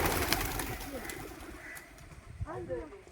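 Soft pigeon coos drift in the background, a few low rolling calls rising near the end, mixed with speech and outdoor murmur near a small nursery school.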